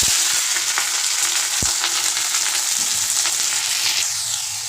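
Spices and vegetables frying in hot oil in a kadai, a steady loud sizzle with crackling pops throughout and a sharp clatter near the start, fading slightly at the end.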